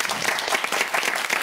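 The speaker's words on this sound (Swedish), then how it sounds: "Kvällens första applåder." Studio audience applause fills the room in a steady dense patter of many hands clapping, with no talk over it.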